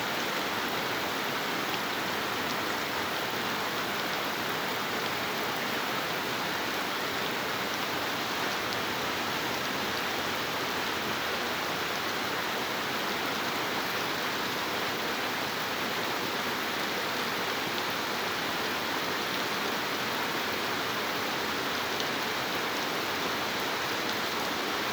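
Steady, heavy rainfall pours down without a break, a dense, even hiss that holds at the same strength throughout, with no voices heard.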